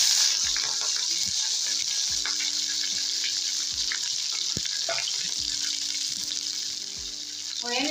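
Chopped capsicum, chillies and onion sizzle steadily in hot oil for a potato curry, with a constant bright hiss interrupted by light clinks of a spoon stirring the pan.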